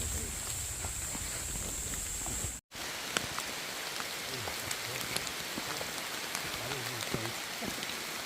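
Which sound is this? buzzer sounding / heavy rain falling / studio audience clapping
heavy rain falling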